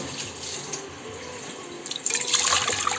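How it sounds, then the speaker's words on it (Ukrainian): Water runs into a cooking pot, three measures for a pearl barley porridge. A soft, steady trickle grows into louder splashing over the final second. "а тепер у каструлю три таких мірки наливаємо води."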